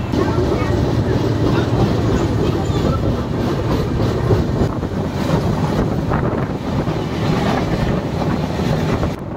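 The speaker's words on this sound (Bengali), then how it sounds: "1 মিনিট হল্ট করার পর ছেড়ে দিল আমাদের ট্রেন" Steady rumble and rattle of the Tamralipta Express passenger train running from Howrah to Digha, loud and continuous, with wind buffeting the microphone throughout.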